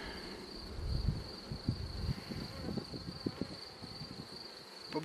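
Honeybees buzzing around a brood frame lifted from a hive, a steady close drone with scattered individual wingbeat passes and soft handling knocks.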